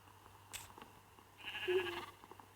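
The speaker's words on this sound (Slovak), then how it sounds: "Aha, tu je ovca." A sheep in Minecraft gives one faint, short bleat amid quiet game sounds and soft clicks, with no speech.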